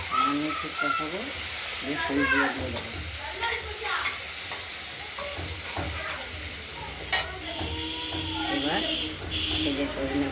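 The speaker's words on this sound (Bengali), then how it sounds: "এবার আমরা একটু কষিয়ে নিই।" Turmeric and spices stir-fried in a pan give a soft steady sizzle with scraping stirs. Someone speaks throughout, and a bird chirps faintly in the background.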